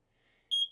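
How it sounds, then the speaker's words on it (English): The carbon monoxide detector in a 2026 Newmar New Aire RV gives its test signal, a loud, piercing electronic beep in two close bursts after a faint lead-in. "You'll hear the beep that tells you that it's active and that it would alarm if there was CO2 in the room."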